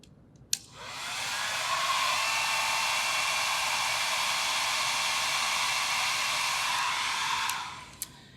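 A handheld hair dryer switches on with a click and blows a steady, loud rush of air on its high setting for several seconds, then clicks off; no voices.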